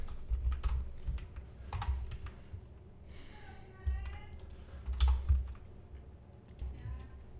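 Computer keyboard typing, close and fairly quiet, comes in short clusters of key clicks with brief pauses between them.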